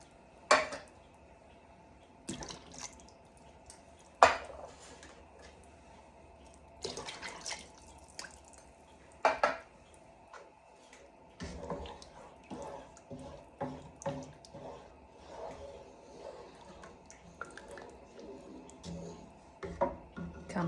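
Rinse water from cans is poured into a soup pot of cabbage soup in a home kitchen, with intermittent splashes, drips and clinks of metal cans at moderate-to-faint level, scattered across quiet pauses.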